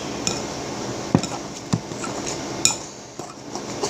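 Scraping and clinking of a utensil against a bowl while Oreo no-bake cheesecake mixture is stirred, with a few sharp knocks standing out over a steady soft rustle, close and fairly quiet.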